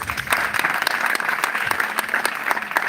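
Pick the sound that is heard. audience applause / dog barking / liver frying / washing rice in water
audience applause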